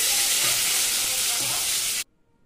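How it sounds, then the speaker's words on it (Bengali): Potato pieces frying in hot oil seasoned with whole bay leaf and cumin in a kadai, a loud, steady broadband sizzle lasting about two seconds before cutting off abruptly to near silence. "কড়াইতে তেল গরম করে তার মধ্যে গোটা তেজপাতা জিরে ফোড়ন দিয়ে কেটে রাখা আলুর টুকরোগুলো ছেড়ে দিলাম"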